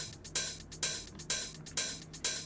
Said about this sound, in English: Like, for example, these hi-hats in the second half.